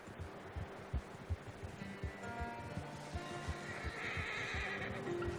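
A horse in Red Dead Redemption II neighs and whinnies, with hoof clip-clops and a low rhythmic thudding underneath, moderately loud against steady game ambience.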